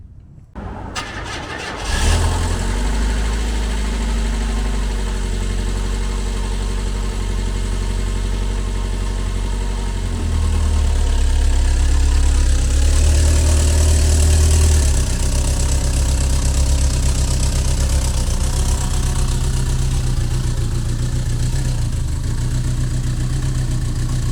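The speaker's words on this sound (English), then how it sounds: "it's clearly firing on 3 cylinders when it's cold" A cold Mazda MX-5 engine misfiring on three cylinders starts up and settles into a loud, uneven, lumpy idle that holds steady for over twenty seconds, close to the microphone with no talking.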